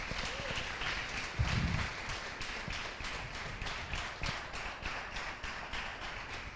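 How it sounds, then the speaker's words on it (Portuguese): A church congregation claps for Jesus in a sustained, fairly faint round of applause that has a steady tapping rhythm. One brief louder thump comes early, and there is no speech over it. "Dá mais uma salva de palmas para Jesus."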